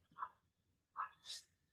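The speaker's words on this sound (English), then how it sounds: "We got a barking dog upstairs." A dog barks upstairs, two or three short, fairly faint yips and barks heard from another room, set apart by a quiet gap.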